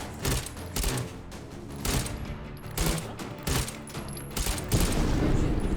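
Rapid bursts of gunfire from the VR shooting game H3VR rattle out in uneven volleys, with loud clustered shots and mechanical clicks between them. No speech is heard.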